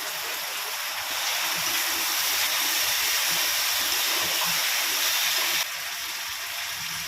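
Steady hissing sizzle of ginger, garlic, green chilli and tomato paste sautéing in a pan, loud and even with no talk.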